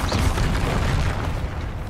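A Confringo spell explosion in Hogwarts Legacy, a loud rumbling blast with a heavy low-end roar that stays sustained and slowly fades.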